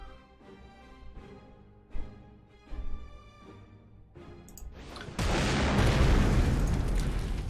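A large explosion erupts at about five seconds in a Panzer Corps 2 artillery battle and holds as a loud, sustained roar, after a stretch of quieter musical game sounds broken by a few dull thumps.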